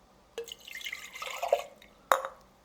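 Regular soy sauce is poured into a container for a homemade seasoned soy sauce, a short trickling splash of liquid followed by a brief pause and a single sharp drip or clink, quiet and close.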